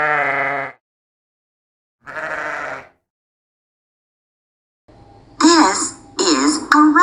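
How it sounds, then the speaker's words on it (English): A sheep bleats twice, two separate drawn-out calls close and clear, followed by a bright animated jingle after a pause. "This is a sheep."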